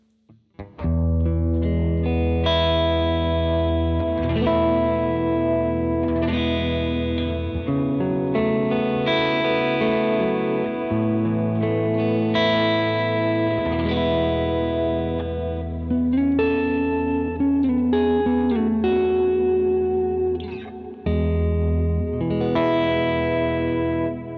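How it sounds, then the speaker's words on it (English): Guitar notes swim in a huge, swirling modulated reverb, sustaining into a long shimmering wash with no gaps between phrases. "I have a much larger modulated reverb setup, and that sounds like this."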